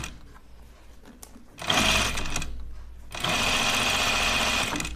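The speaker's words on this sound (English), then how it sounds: "I'm trying to stitch like right up against this gathering stitch on the left of it so that it's in the seam allowance." A sewing machine runs a collar seam on a coat, close and loud, in two bursts of rapid stitching, the first shorter and the second longer and steadier, with a pause between them.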